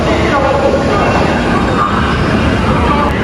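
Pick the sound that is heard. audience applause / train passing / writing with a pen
train passing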